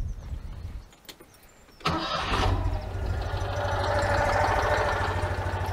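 An Oltcit car engine cranks briefly and catches, then settles into a steady, fairly loud idle close by after a quiet start.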